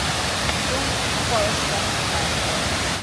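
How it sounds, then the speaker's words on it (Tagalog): Bisi waterfall at Lake Sebu in the Philippines, the widest of seven falls there, about 35 feet high, roaring as a steady, dense broadband rush of falling water that stays constant throughout. "that is Beshi. the widest among the 7 waterfalls of the Philippines"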